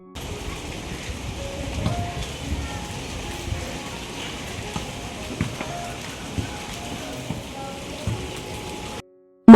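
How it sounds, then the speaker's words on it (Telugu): Light rain falls with wind as a constant soft patter and rustle, with faint scattered drops throughout before it cuts off abruptly near the end. "గాలితో పాటు స్లోగా వర్షం కూడా స్టార్ట్ అయింది."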